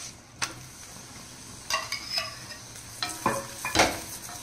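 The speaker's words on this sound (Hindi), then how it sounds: "घी लगा के इसको अच्छे से चारों तरफ से सेकेंगे।" Moringa paratha roasting on a griddle as ghee is spread over it, with a soft steady sizzle broken by several sharp scrapes and taps of a spatula, heard up close and without talk.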